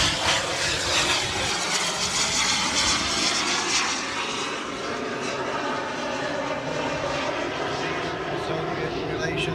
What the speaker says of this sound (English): Not one Vulcan, but two.